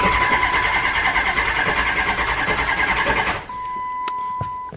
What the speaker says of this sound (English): crank it over a little bit, get the oil circulating before we start it